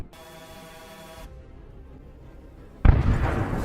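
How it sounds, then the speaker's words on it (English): An anti-tank mine explodes under an armored personnel carrier during combat, throwing it sideways: a sudden loud, broad blast rumble bursts in after a stretch of quiet low background and carries on as rough roaring noise. "From the explosion, the APC did a sideways somersault."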